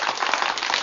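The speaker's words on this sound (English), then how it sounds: "We have clapping on this show." Studio audience clapping on a Los Angeles talk show, a dense, steady patter of many hands filling the short moment without any voices.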